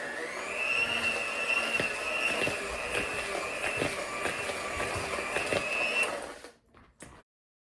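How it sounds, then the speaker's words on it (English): An electric mixer at medium speed whirs through butter and sugar in a bowl for pumpkin chocolate chip bread, a steady motor whine with clattering beater taps, then switches off and falls quiet. "electric mixer in bowl"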